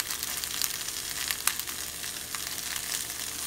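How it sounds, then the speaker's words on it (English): Vegetables sauté in garlic herb butter for homestyle hibachi, giving a steady, close sizzle and crackle with a few sharper pops and no talking. "we're going to just get these sauteed down as well"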